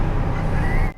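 Bugatti Divo hypercar engine heard from inside with the windows down, a loud dense roar with a rising whine that cuts off abruptly at the end.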